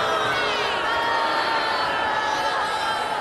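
A movie basketball-game crowd boos loudly and continuously, a dense wall of many voices jeering together.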